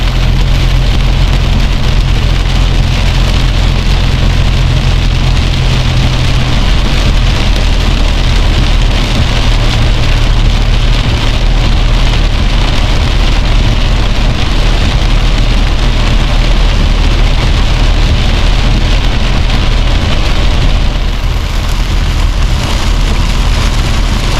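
Heavy rain drums steadily on a moving car in Fang, Thailand, driving along a waterlogged road; a loud, continuous, dense roar of rainfall with no talking.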